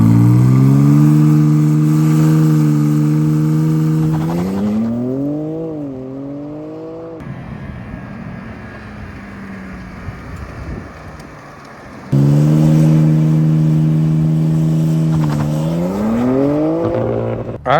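A tuned BMW M4 Competition xDrive with a piggyback tune revs hard in race mode: a loud climbing engine note, a drop to quieter running, then a second strong rising rev, close and without talk.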